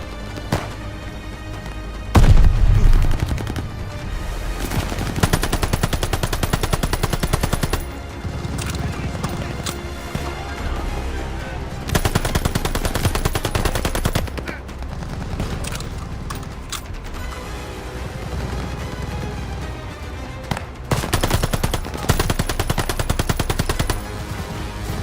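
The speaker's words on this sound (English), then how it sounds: "Surround the MG! Keep pushing, lads!" Rapid bursts of machine-gun fire rattle through a World War II battle in Call of Duty Vanguard, loud chattering volleys that stop and restart amid dense combat noise across the whole stretch.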